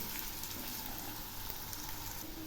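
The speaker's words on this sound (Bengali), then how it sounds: "এই পেঁয়াজ আর আলুগুলো একসঙ্গে ভালো করে ভেজে নেব" Onions and potatoes frying together in a pan, a faint, even hissing sizzle that holds steady throughout with no distinct stirring or other sounds, and nobody talking.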